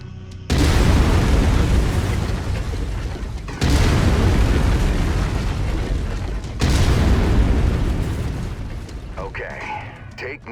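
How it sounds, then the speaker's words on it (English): Autocannon firing in the video game MechWarrior 5: Mercenaries, three loud heavy booming bursts in succession, each decaying into a rumbling tail, with no talk over them. "I've mapped the autocannon to Weapon Group 1. You're free to fire whenever you're ready."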